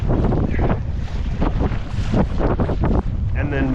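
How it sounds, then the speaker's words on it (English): Strong gusty wind roars across the microphone throughout while kayak fishing on open water, loud and buffeting, with splashes and faint water movement beneath it. "this is about the max wind that we're going to be getting"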